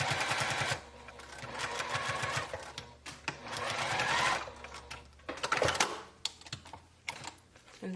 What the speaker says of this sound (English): Now I'm going to sew the other side going in the same direction